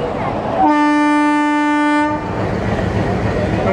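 A train horn blares in one long, steady blast over the rumble of a train heading to Shimla, India, with the rolling noise continuing after the horn stops.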